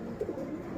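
A pigeon coos softly a few times in a short, quiet stretch, low rounded calls rising briefly over faint room background with no talking.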